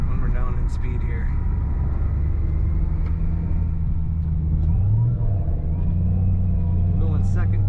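A supercharged 2007 Ford Mustang Saleen S281 coupe drives along with a low, steady engine rumble and a faint whine shifting in pitch, heard from inside the car under ongoing talk.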